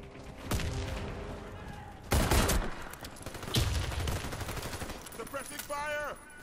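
Suppressing gunfire in a ranked video game match, heavy automatic bursts crackling in several loud volleys, with a voice briefly speaking over the shooting.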